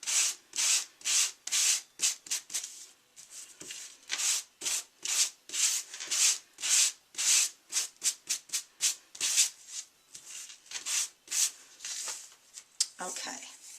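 Light hand sanding of a painted craft tag, a steady series of quick, close scratchy rubbing strokes with a brisk back-and-forth rhythm.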